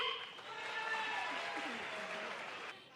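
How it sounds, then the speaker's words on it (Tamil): Audience applause fills a large crowded gathering, a steady dense wash of clapping lasting several seconds before tapering off at the end, with faint voices mixed in underneath. "அதுக்காக ஜோரா கைத்தட்டி ஒரு சல்யூட் அடிங்க"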